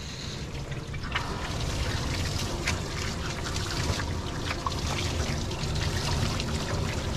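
Rinse water running steadily during a Shih Tzu puppy's bath, a continuous close spray and trickle of water at even loudness with faint splashes throughout, and no talking.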